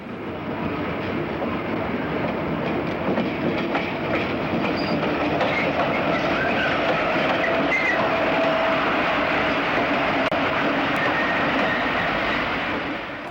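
Conrail GP40 locomotive pulling a train, a steady rolling rumble with continuous clickety-clack of wheels over rail joints and faint squeals, sustained and close throughout.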